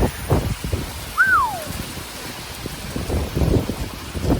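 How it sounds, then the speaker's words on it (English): Heavy rain during a severe thunderstorm pours down in a steady wash with gusty, fluctuating bursts, and a single short rising-falling whistle or call cuts through briefly. "the rain is coming down"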